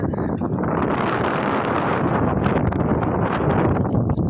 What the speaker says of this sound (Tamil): நம்ம எங்கே வீடியோ பிடிக்கினாலும் இந்த காற்று மட்டும் வந்துடுதுப்பா பயங்கரமாக.